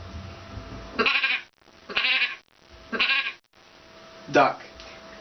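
A human voice imitates a sheep's bleat, giving four separate wavering bleats spaced about a second apart, close and clear with no other sound around them.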